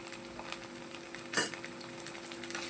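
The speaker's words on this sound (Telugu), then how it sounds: "ఈ ఆయిల్లో వేసుకొని ఫ్రై చేసుకోవాలి మనకి ఉల్లిపాయలు అయితే చాలా వరకు ఫ్రై అయిపోయాయి కదా" Onions with ginger-garlic paste fry in oil with a faint, steady sizzle and soft stirring, and a single metallic clink of a spoon against the pan sounds midway.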